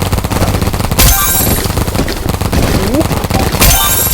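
Rapid, continuous paintball-gun fire in the Roblox game BIG Paintball 2 rattles loud and close in dense automatic bursts, with a couple of sharper cracks standing out in the stream.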